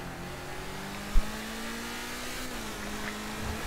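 A Lamborghini in Grand Theft Auto V is driven fast, giving a sustained engine drone that climbs and shifts in pitch, with one sharp thump partway through and no voices.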